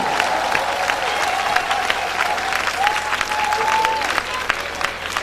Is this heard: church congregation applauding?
yes